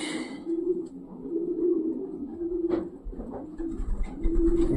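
A female pigeon coos repeatedly in low, soft, throaty phrases, steady and close inside a pigeon loft, with faint rustling and low background noise.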